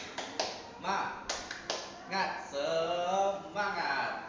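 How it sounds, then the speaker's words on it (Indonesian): A classroom of students claps a rhythmic spirit clap, sharp patterned bursts of claps close by, with voices chanting along between them. "Oke, tepuk semangat."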